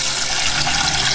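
Water runs into a pan as rice is rinsed for daal, a loud, steady rushing splash that fills the moment without any talk.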